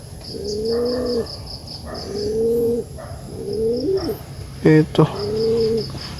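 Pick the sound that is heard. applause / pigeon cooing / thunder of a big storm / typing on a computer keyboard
pigeon cooing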